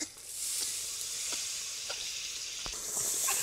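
Water poured into a pan of deep-fried pointed gourd (potol) sets off a loud, steady sizzle with a bright hiss, broken by a few sharp crackles and spatters, with no voices.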